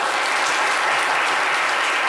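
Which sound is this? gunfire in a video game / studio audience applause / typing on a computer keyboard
studio audience applause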